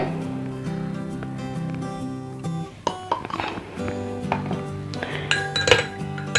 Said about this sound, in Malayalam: നല്ലവണ്ണം ഒന്ന് ഇളക്കുക